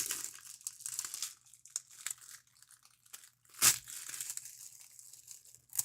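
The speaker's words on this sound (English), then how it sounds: "The cellophane has been ripped." Cellophane wrapper on a 1991 Marvel Universe Series 2 trading card box ripped open, with a run of crinkling and tearing and one sharp, louder rip partway through, close up with no talk.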